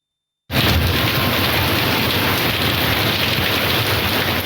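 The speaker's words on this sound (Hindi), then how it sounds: "मुल्क भर में मानसून बारिशों का सिलसिला जारी है।" Heavy monsoon rain pours down, starting abruptly after a brief silence and continuing as a loud, dense, unbroken roar of downpour.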